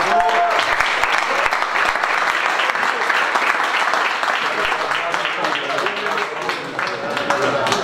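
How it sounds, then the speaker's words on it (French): A crowd at a charity cheque presentation for a running event applauds marathon runner Nicolas Navarro with steady, dense, loud clapping that holds for several seconds, while voices carry on beneath it. "je vous demande d'applaudir"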